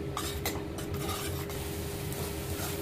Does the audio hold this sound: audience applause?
no